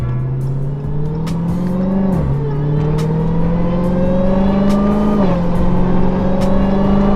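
A powerful Dodge Hellcat engine rumbles loudly from inside the car, climbing in pitch as it revs, with two brief drops as gears shift.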